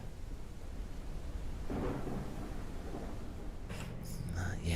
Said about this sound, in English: Yeah, that lightning's super loud and kind of freaky.